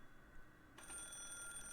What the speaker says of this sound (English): At that moment, the phone rang.